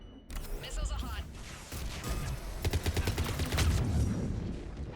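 A missile launch and gunfire in Mass Effect 3, a rising whoosh followed by a rapid burst of sharp cracks and rattling fire, loud and close, with a voice talking over parts of it.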